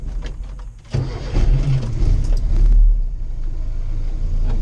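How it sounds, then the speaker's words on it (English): A car engine cranks and catches about a second in, then settles into a loud, steady low rumble as the car sets off on a cold, dreary day. The sound is picked up by a GoPro clipped inside the car. "We'll go for a drive."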